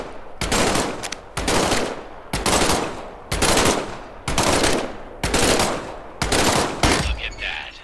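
Sustained machine-gun bursts from a World War II–style weapon in the VR shooter Medal of Honor: Above and Beyond, loud and close, firing in about seven rapid sustained volleys separated by brief pauses, with no talk.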